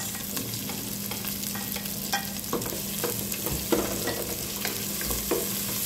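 Garlic and onion sautéing in a pan, a constant close sizzle broken by repeated stirring scrapes and occasional knocks of a utensil, over a faint steady hum.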